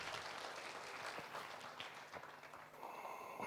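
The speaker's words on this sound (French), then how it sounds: "Encore applaudissements." Applause from an audience honouring a business leader at a Burkina Faso entrepreneurs' event, a dense steady patter of clapping that continues throughout and swells slightly near the end.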